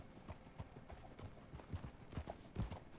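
Hooves clip-clop steadily as a horse walks in Red Dead Redemption 2, a clear, close, evenly paced rhythm of soft thuds heard alone without talk.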